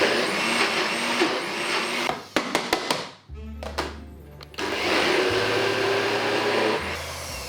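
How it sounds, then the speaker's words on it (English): A blender loudly purees a plant-based frangipane. Steady whirring runs for about two seconds, then stops for a series of short pulses and a brief pause, and resumes as a continuous blending roar until the end. "I'm just blending that until we have a beautiful creamy thick textured frangipan"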